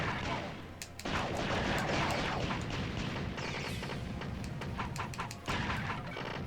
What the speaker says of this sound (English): Fine, I'll shoot you back. See how you like gunshots.